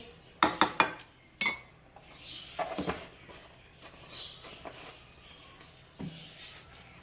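Milk powder is spooned into a bowl of flour for pita dough, with sharp metal spoon clinks against the bowl in a quick cluster, then scattered lighter taps and scrapes.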